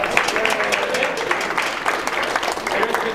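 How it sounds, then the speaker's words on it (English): A room of people at a Hell's Kitchen Democrats tenants' meeting applauds warmly, with dense, steady clapping close by throughout and voices mixed in beneath it. "Give yourselves a round of applause"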